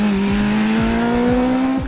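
The ZCars Twin R1 race car screams past at speed on a track, its high engine note rising steadily with rapid gear shifts heard as repeated sharp drops, loud and close throughout.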